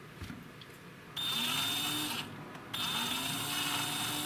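A power drill spins a ball end for a link on an Atomic AMZ 1/27 4WD RC car, with two close, steady high-pitched whirring bursts separated by a short pause.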